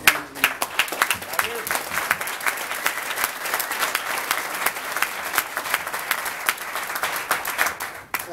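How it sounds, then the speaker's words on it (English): An audience at a 50th anniversary celebration for a long-serving police department member bursts into sustained applause, dense and close, swelling at the start and holding steady for several seconds before tapering off. "I just want to give him a round of applause for his 50 years of service to the department"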